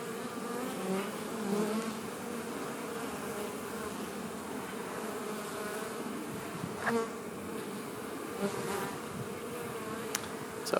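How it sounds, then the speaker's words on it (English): Dense swarm of bees buzzing around an open beehive during an inspection, a continuous close drone with individual bees flying past now and then, no speech. "there's a lot more bees down here."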